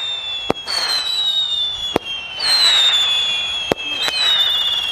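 An Arabian Nights firework from a batch of 2022 Sivakasi crackers launches with loud, shrill whistling tones that rise and glide downward, broken by three sharp pops spread across the clip, with no talking.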